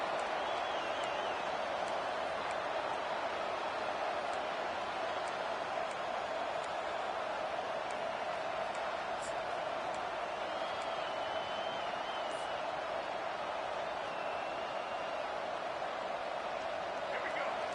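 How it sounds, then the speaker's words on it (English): A football stadium crowd during a Duke versus Nebraska game roars as a continuous, dense wash of noise, steady and loud, with scattered faint whistles and shouts on top. "The roar of the crowd trying to fuel this defense to keep them pinned in their own end."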